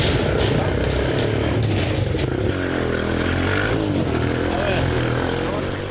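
A motorcycle engine runs steadily and loudly throughout, with a low rumbling drone and some faint background chatter.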